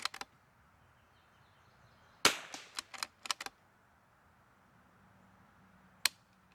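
A Curtis Scout .22LR firearm fires sharp, faint cracks outdoors: a quick pair at the start, a rapid string of about seven shots in the middle, then one last isolated shot.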